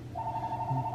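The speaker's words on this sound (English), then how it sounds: "And there's the phone." A household telephone rings in a kitchen during dessert time, one steady electronic tone sustained through most of the second, fairly close and moderately loud, with a low hum beneath and no talk.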